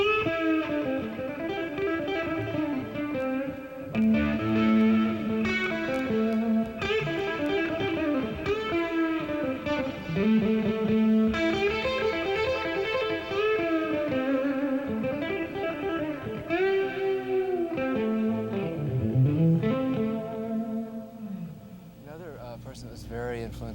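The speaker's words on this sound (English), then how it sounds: "he would bend two strings like" A guitarist plays electric guitar, bending two strings at once in a lead style. Ringing sustained notes with sliding, bending pitches carry on at a moderate level over about twenty seconds.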